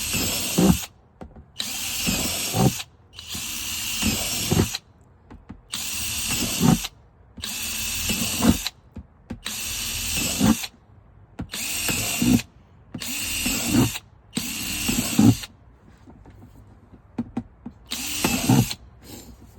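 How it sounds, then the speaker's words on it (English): Repeated bursts of a power drill whining at high speed as it drills holes in the bottom of a plastic tote, each lasting about a second, with short pauses between them, close up. "you're going to drill holes in the bottom"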